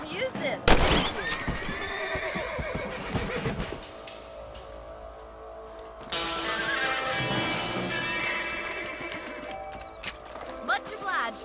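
Horses whinny and snort in the Western video game Red Dead Redemption, several loud neighs standing out amid clip-clopping hooves, ambient outdoor sounds and someone speaking.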